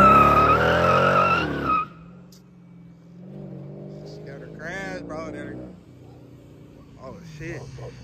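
A Dodge Charger SRT8 Super Bee slides with its tires skidding, a loud engine roar at first, then screeching tire squeals, while people talk over it.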